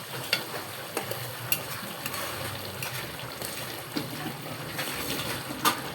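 Onions frying in a covered pot for a chicken and potato curry get stirred, giving a low sizzle with scattered spoon scrapes and taps, fairly quiet and close.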